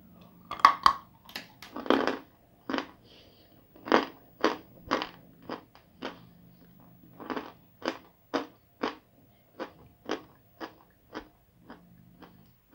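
Dry chalk bitten and chewed, giving a series of about fifteen crisp, close crunches spaced roughly a second apart, with no talking.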